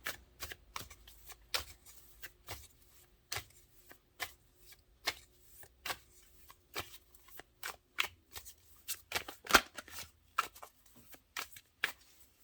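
Tarot cards being shuffled in a quiet room, a quick run of crisp riffling taps and flicks that arrive in irregular bursts for about twelve seconds, close and fairly soft, with no voices.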